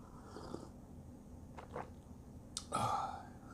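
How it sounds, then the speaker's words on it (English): Someone swallows a drink close to the microphone with a couple of soft gulps, ending in a fuller wet gulp. The sounds are quiet over a faint room hiss. "Let me get that swallowing sound in there."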